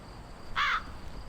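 A single crow caws once in the Daydream: Forgotten Sorrow video game, a short harsh call over quiet background hiss.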